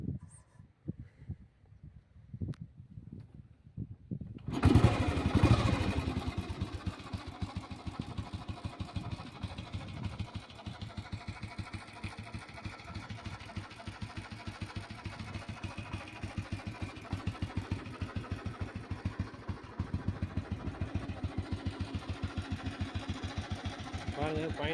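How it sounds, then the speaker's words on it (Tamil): A restored vintage Royal Enfield Bullet petrol motorcycle fires up after a few faint clicks, then settles into a steady, even thumping idle that runs close and continuous to the end. "இப்போ பாயிண்டில் வண்டி ஸ்டார்ட் பண்ணி பார்க்கலாம்."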